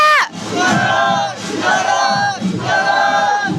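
A rally crowd outside the main gate of the Gwangju military airport chants protest slogans against joint military drills, three loud unified shouts in a row, each rising together and then holding.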